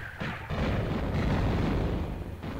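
Gunfire in a video game: a dense, loud barrage of booming shots and blasts blending into a continuous rumble for a few seconds, with no talk.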